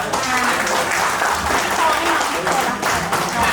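An audience at a Thai ceremony applauds loudly and continuously, thick clapping mixed with cheering and voices in the crowd.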